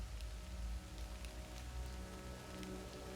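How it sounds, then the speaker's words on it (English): Rain falls steadily in the Total War: Pharaoh strategy game, a soft continuous patter with a few faint drop ticks over a low ambient rumble, no voices. "It's raining outside."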